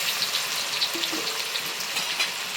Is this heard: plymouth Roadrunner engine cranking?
no